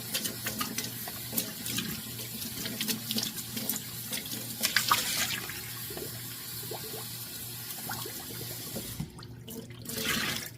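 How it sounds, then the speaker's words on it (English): Strawberries washed under a running kitchen tap, a steady close stream of water splashing into the sink with shifting gurgles and a brief louder surge near the end. "All right, time to wash my strawberries."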